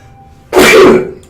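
A single sharp sneeze bursts out close and loud, a half-second explosive gust that trails off quickly, with no talk over it.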